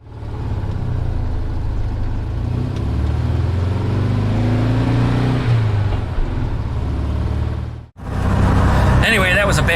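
A Volkswagen Type 3 dual-carburetor engine drones steadily and loudly from inside the car, rising slightly as it revs, then cuts out briefly before a harsher burst of noise returns.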